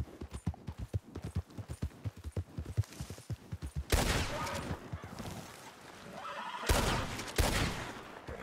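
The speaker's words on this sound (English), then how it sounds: "Burning through my ammo" Gunfire in the video game Red Dead Redemption 2, rapid repeated shots in a quick rhythmic burst, followed by louder, denser blasts and rumbling, with horse hoofbeats and whinnies mixed in.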